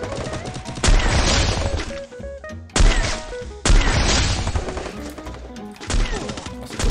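Gunfire in a shooter video game, sharp loud bursts of shots arriving in several clusters separated by short gaps, with little talk over them.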